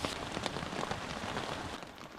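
Rain patters on a tarp in Alaska's rainforest, a dense, steady drumming of drops that stays fairly soft and even with no voices.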